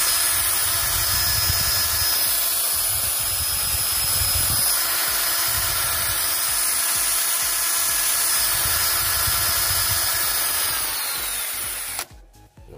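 A small 12V DC motor, fitted into an electric fan, whirs steadily at high speed for about twelve seconds, a loud continuous buzzing drone that cuts off abruptly near the end.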